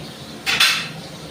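A metal spatula clatters against a cooking pan in a kitchen, two quick bright clinks close together, then quiet.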